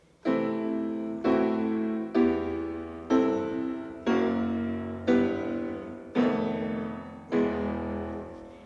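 Eight slow chords of an eight-note theme, one per bar, sound one after another, each struck with full harmony and left to ring and fade before the next, in an even, unhurried pulse.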